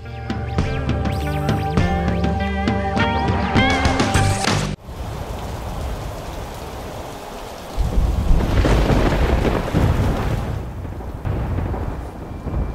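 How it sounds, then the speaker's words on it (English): Thunderstorm with heavy rain, a dense steady roar of downpour with deep rumbling thunder swelling partway through, after an abrupt cut from a busy, music-like opening; no voices. "This is the worst storm I've seen in a long time."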